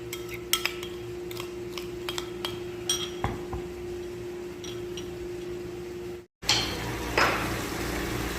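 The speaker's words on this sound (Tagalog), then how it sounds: "haluin natin yung ating pusit" Squid being stirred in a cooking pan, a string of light metallic clinks and scrapes from a utensil at irregular intervals over a steady hum, close and fairly quiet, with a brief break and louder sizzle near the end.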